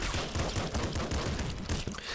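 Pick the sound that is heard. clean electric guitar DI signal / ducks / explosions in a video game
explosions in a video game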